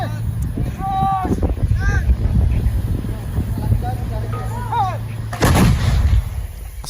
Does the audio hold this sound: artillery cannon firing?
yes